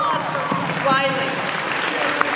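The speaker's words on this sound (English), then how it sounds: "Everybody, give it a round of applause for what's your name?" Audience applause fills a fan convention hall during an IT cast panel at FanExpo Dallas, a steady wash of clapping with voices talking over it.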